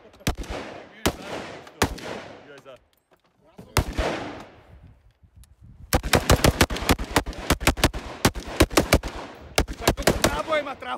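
Ammunition cartridges burst inside a car set on fire in an old mine, loud sharp cracks going off in irregular bunches and then a dense rapid string, with people talking in between.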